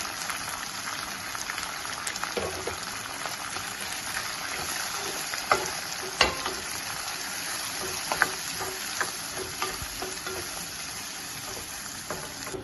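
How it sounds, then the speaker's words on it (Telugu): Green chillies and onions sizzle in hot oil for a cucumber dosakaya curry, a continuous crackling fry close by with occasional sharp pops and light clicks. "పచ్చిమిర్చి ఆనియన్స్ కూడా వేసి ఫ్రై చేసుకోవాలి"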